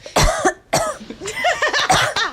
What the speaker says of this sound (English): now I'm just like coughing